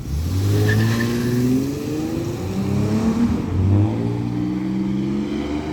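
A Dodge Charger drives and revs, its engine note rising and falling steadily with loud, continuous harmonic sweeps as it accelerates, heard from close inside or beside the car with no talk.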